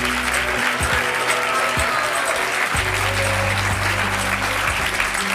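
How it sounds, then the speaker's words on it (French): A studio audience at a French television talk show applauds a guest named Mikey, a Chippendales dancer, with steady, full clapping that holds at an even level under a low hum. "Je vous demande de l'applaudir."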